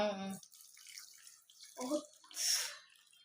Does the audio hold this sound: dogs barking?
no